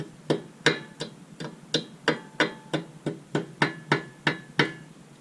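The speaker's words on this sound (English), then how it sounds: "Just take a hammer, beat that in a little bit more" Steady hammer blows on a metal Honda CR-V car part, about a dozen sharp clanks in an even rhythm, close and fairly loud.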